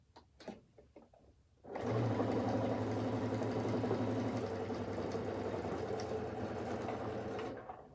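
A sewing machine with a needle-down feature stitches fabric in one steady, fast, close whirring run of about six seconds, after a few faint taps and clicks.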